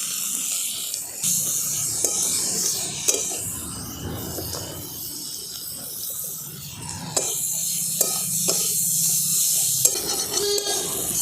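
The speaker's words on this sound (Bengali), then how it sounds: "এগুলো সব দিয়ে আমি একসঙ্গে খুব ভালো করে ভেজে নেব।" Vegetables fried together in a pan with salt and turmeric, heard as soft sizzling with repeated scraping and stirring strokes of a spatula, plus a few sharp clinks against the pan.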